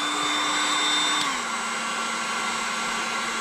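A heat gun blows steadily and fairly loud on the wheel liner of a Toyota GR86, a constant whirring hum whose pitch drops slightly partway through.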